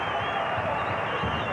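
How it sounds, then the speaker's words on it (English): A big stadium crowd roars at a 1990 rugby league match between the Canberra Raiders and Roosters, a steady, dense wash of cheering with no breaks. "Well, listen to the crowd."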